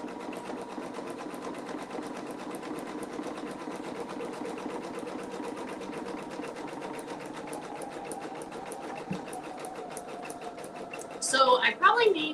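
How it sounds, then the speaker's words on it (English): A multi-needle embroidery machine stitching designs onto beanies, giving a steady, continuous mechanical whir and rapid needle chatter at moderate volume, with a short brighter rattling burst near the end. "has a multi-needle machine"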